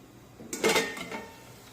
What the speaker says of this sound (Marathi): कढईवरचं आपण झाकण काढूया